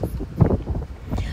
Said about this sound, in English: It's very windy and cold here.